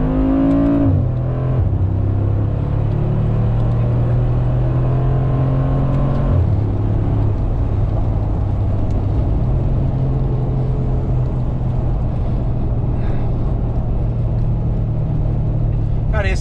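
A Mercedes-AMG G63 with its 9-speed gearbox revs up loudly, the engine note climbing and dropping with gear changes before settling into a steady, deep drone heard from inside the cabin.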